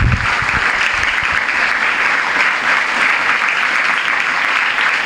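A room full of people claps together, a steady, loud, dense wash of applause sustained evenly throughout, with no talking over it.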